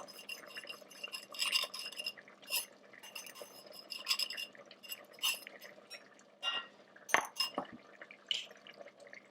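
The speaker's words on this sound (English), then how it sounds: "going to take your spoon and just sort of start mixing it a little bit" A spoon stirring dumpling dough in a bowl, wet liquid poured into flour, producing irregular clinks and scrapes against the bowl with short pauses between strokes, close and fairly quiet, no talk.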